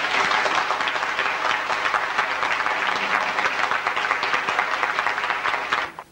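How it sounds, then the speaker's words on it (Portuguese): Steady, dense audience applause fills an annual school reunion hall at an industrial and commercial school, continuous and loud throughout before cutting off abruptly at the end. "Para eles a nossa homenagem com uma salva de palmas."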